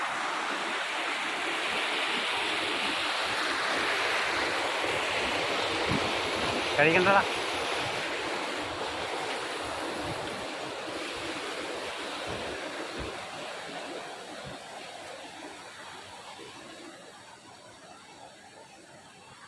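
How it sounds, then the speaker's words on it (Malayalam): A small waterfall on a nature outing gives a steady close broadband rush of falling water, fading slightly toward the end, with a brief voice speaking over it. "കുഴപ്പമില്ലാത്ത രീതിയിലുള്ള വെള്ളച്ചാട്ടം."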